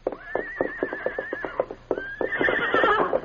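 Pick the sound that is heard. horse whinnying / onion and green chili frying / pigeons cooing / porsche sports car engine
horse whinnying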